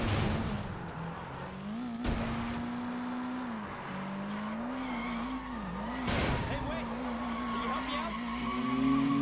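A car in the video game Sleeping Dogs drives with a steady droning engine, braking hard into tire squeals and skids, with two sharp crashes partway through.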